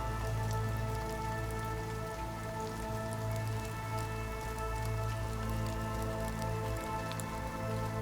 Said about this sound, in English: Sweet dreams, and drift off to sleep with rain.